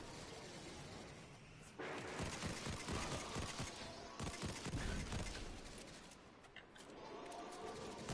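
Rapid bursts of trace rifle fire from a video game crackle in dense, overlapping volleys, with brief gaps and a quieter stretch before the shooting resumes at moderate loudness.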